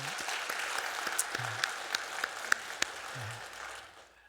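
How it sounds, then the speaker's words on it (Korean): A church congregation gives a short round of applause, a soft, even patter of many hands with a few sharper claps. A low murmur runs underneath as it fades. "감사의 박수, 영광의 박수 함께 올려드리겠습니다."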